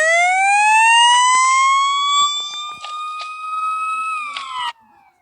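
Siren Head monster in a video game blares a loud, steady wailing siren with stacked harmonic tones, pitch rising slowly then dropping near the end before cutting off.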